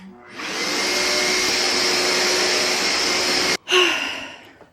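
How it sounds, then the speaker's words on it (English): A vacuum cleaner roars steadily up close for several seconds, cuts out briefly, then surges back and winds down. "I think I vacuumed this entire bed."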